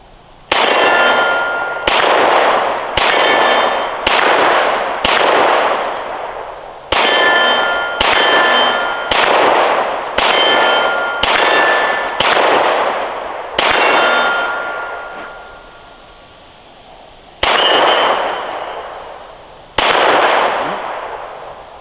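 A Glock 19 pistol firing 115 grain Winchester rounds at steel targets gives about fourteen loud, sharp shots spaced a second or two apart, each followed by a bright metallic ring that decays before the next, with longer gaps near the end.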